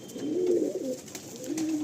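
A male pigeon gives two low, throaty coos close by, one longer rolling call then a shorter one after a brief gap, with no voices.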